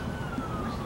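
Emergency siren wailing outdoors on a street after a big windstorm in Wichita, Kansas, a steady distant tone over low rumbling background.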